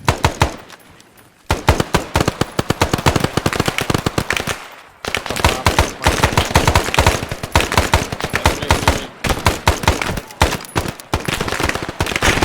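Rapid bursts of automatic gunfire and single shots ring out in the ArmA military video game, loud and close, in dense volleys broken by a few short pauses, with faint voices now and then.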